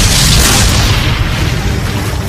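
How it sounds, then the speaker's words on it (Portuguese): Union artillery cannon fire at the Battle of Gettysburg comes as a loud, sustained, rumbling roar of booms, dense and close, with no clear gaps between blasts. "A artilharia da União os esmagava."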